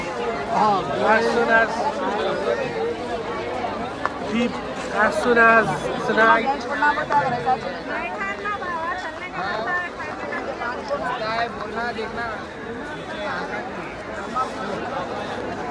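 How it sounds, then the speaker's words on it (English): Dense midnight crowd at an Eid bazaar near Charminar in Hyderabad, with a steady babble of many overlapping voices, close chatter and general hubbub filling the scene throughout. "It's too crowded at midnight, and I'm strange to see that the crowd is still keep on growing"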